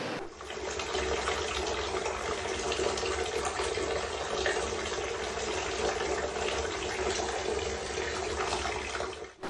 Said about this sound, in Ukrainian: Блакитна мильна водичка потекла з під крана в одному з будинків Наварнацького.